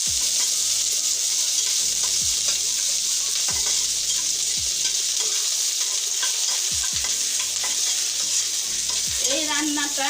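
Bay leaves, onion, green chili, garlic, cinnamon, cardamom and cloves frying together in a pan, a loud continuous sizzle with repeated scraping stirs throughout and no talking.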